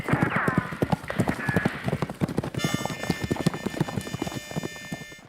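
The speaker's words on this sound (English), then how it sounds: "So come on, your horse is ready." Horse hooves clip-clop in a Wild West video game: a quick, steady rhythm of sharp hoofbeats runs throughout, with a whinny near the start and a bright tonal game effect joining partway.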